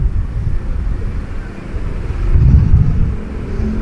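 Slow, congested night traffic of cars and motorcycles near Saiful Anwar hospital in Malang, Indonesia, a loud low rumble of idling and creeping engines with wind buffeting the microphone and a swell as a vehicle passes close.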